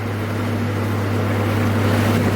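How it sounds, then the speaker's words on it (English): Inside an Acura Integra with a B16 engine on the move, the exhaust gives a steady, fairly quiet droning hum with a constant low tone under rushing road and wind noise. "The exhaust sounds good."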